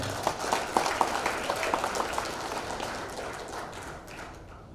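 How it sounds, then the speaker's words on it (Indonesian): Faint, distant audience applause at a MURI record award ceremony for Ganesha Operation, a steady patter of many hands that thins out toward the end. "Tepuk tangan buat GO."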